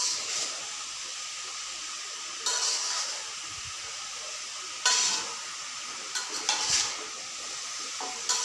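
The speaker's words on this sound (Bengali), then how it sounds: "কাঁচা কাঁঠালের সাথে মশলাগুলো ভালো করে মিশিয়ে নেওয়া হচ্ছে।" Raw jackfruit pieces coated in spices are stirred in a pan over a low sizzle, with several louder bursts of scraping and clattering as the spatula pushes the mixture around.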